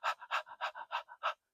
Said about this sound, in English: You might try panting.